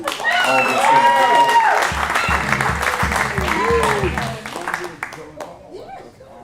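A theatre audience claps and cheers to welcome a performer back for an encore at a trumpeter's concert. The applause runs loud and dense for about four seconds, then thins and fades as excited voices carry through.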